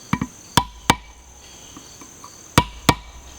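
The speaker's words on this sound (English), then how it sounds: "Now I've heard you can take a hammer and a chisel and" A hammer strikes a chisel while scoring a concrete block to cut a half block during block laying for a tiny house; sharp, fairly near metallic taps come in two pairs with a couple of fainter knocks between, over quiet background.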